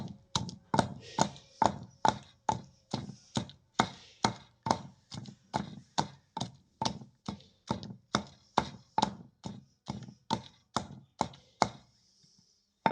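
Fresh coriander being pounded for chutney in a traditional kundi-sota mortar and pestle, heard as a steady run of about twenty-five close, loud, evenly spaced thuds with no talk.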